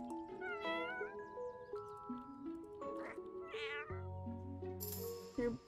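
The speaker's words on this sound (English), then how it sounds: "Meow. Meow." A cat in the inZOI video game meows repeatedly, with drawn-out, wavering calls and a few caterwauling cries over soft background music, loud and up front.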